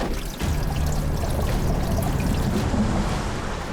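Diesel pouring out of a ruptured truck fuel tank, a steady rushing splash after a brief quieter start, continuous and fairly loud with a broad hiss.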